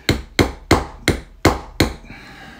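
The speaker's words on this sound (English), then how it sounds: "hammer it in" Six sharp, evenly spaced hammer blows drive a hard plastic part into a Spyderco Para 3 pocketknife, each close, crisp strike ringing briefly before the next, followed by a quiet pause.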